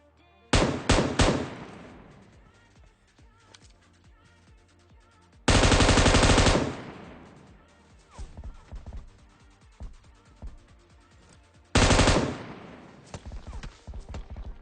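Gunfire in the video game PUBG: short bursts of rapid shots followed by two dense sustained automatic volleys, loud and close, with quieter clatter and thuds between bursts.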